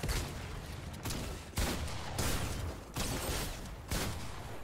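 Fortnite Creative gunfire in a Star Wars-style battle: a rapid series of loud, punchy shots in bursts roughly every second, close up and without talk.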